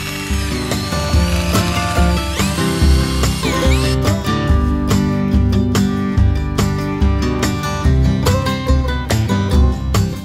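Power drill with a mixing paddle stirring a bucket of custom color paint during stucco prep, a loud close-up motor whine with pitch swoops and knocking, strongly rhythmic clatter throughout.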